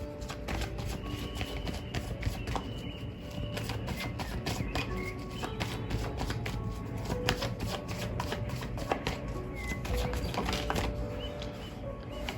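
Tarot cards shuffled by hand in a quiet room, a steady run of close, crisp riffling and flicking bursts that continues throughout with no talking.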